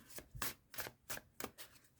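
An oracle card deck with soft card stock is shuffled by hand in a quiet room, producing five soft, riffling bursts in an even rhythm, close and fairly faint.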